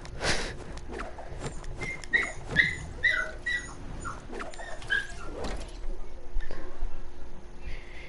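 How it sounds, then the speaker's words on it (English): A dog barking and whimpering indoors, with high-pitched whines and yips repeated through the stretch, fairly close and moderately loud, with faint voices underneath. "It's either our dog smells Michael Vick, sees Michael Vick, or Michael Vick has our dog"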